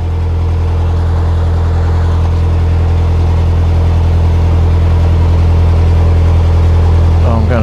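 A narrowboat engine runs hard, revved while racing another boat on a canal in Cheshire, a loud, steady low throb with a sustained drone that barely varies.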